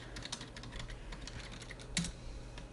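Typing a password on a computer keyboard: rapid, light, fairly close key clicks in an irregular rhythm, with one sharper louder keystroke near the end, no talk.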